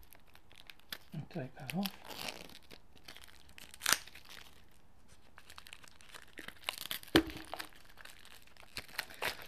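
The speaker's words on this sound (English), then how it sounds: "I'm just going to very, very carefully cut through the plastic there" Plastic wrap on a limited-edition Marseille tarot deck box crinkles and tears in short bursts as it is cut and peeled away, with a couple of sharp snaps between, while a person talks over it.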